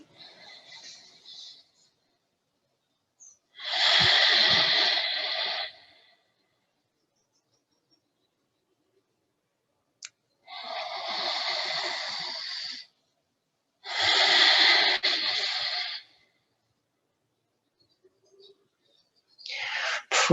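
Forceful breaths during a core workout: four separate loud, hissing exhales and inhales, each lasting a second or two, with quiet gaps between them.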